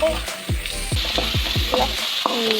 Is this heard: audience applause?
no